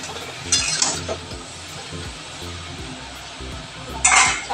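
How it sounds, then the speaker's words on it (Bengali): Potatoes and pointed gourd are stirred and sautéed into a thick curry in a pan, with a spatula scraping and tapping against the metal in a slow rhythm. Two louder sizzling bursts rise over soft clinks. "আবারও এই সব কিছুকে আমি 6 মিনিট মতো কষাতে থাকবো।"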